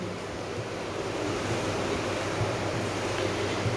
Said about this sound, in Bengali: এই যে জল দিয়ে আমি ধুয়ে ফেলবো